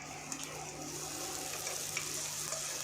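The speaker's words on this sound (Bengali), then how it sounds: "কাঁচা পেঁয়াজ কুচি, এটা একটু ভাজা ভাজা হবে নাড়াচাড়া করে।" Chopped raw onion frying in a pan while being stirred, with a steady low sizzle and faint scraping across the whole stretch, no voices.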